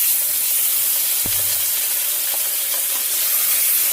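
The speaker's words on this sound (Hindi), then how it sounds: "सबसे पहले हम इसको थोड़ा सा इसमें फ्राई कर लेंगे" Chicken pieces frying in a pan for chicken cacciatore, a loud continuous hiss of sizzling oil with one brief low thump early on, close and steady, no talk.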